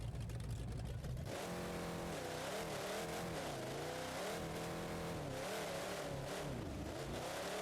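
Monster truck engine in BeamNG.drive revving hard while racing, a loud continuous roar with rising and falling pitch as it accelerates and shifts, close and alone after a brief idle at the start.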